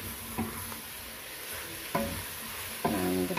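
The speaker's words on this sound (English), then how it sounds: "keep stirring." Beef, onions and tomatoes fry in a saucepan under a steady sizzle, and a spoon stirs and scrapes them in three distinct strokes spread across the moment, each one clattering against the metal.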